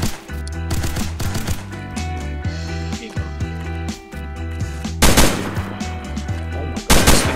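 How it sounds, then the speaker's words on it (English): Loud repeated gunfire from a gun in the Roblox game Fallen, sharp shots in quick bursts over a busy layered game soundtrack, with heavier volleys near the end. "Yo, this gun goes."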